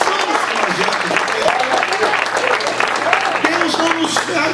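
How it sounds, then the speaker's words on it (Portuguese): A church congregation applauds during a sermon, with loud, busy clapping mixed with voices calling out and a constant low hum beneath. "Pode aplaudir Deus."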